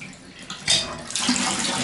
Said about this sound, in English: You can barely see the water in the tub, but it is draining really well.